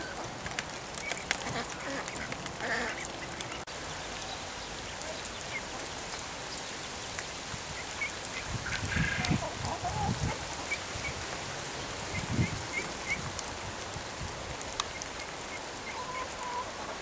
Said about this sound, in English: the two ducklings have now left the hen house, and they're quite happy with the rain